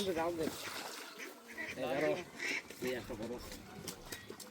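Ducks quack in nasal bursts amid a noisy crowd, with people talking over and between the calls.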